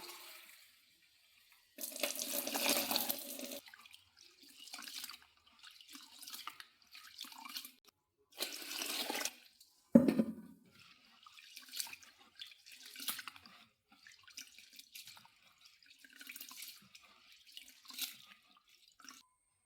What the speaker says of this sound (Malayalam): വെള്ളം ഒഴിച്ച് വെച്ചാൽ നമുക്ക് കുതിരാനായിട്ട് വെള്ളം ഒഴിച്ചിടാം